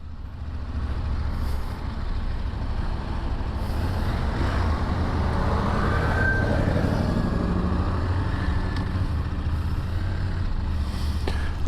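A CFMOTO 1000MT-X adventure motorcycle with Brembo brakes slows during a road test ride, its engine drone and heavy wind rush steady and loud throughout, with a faint squeal rising midway.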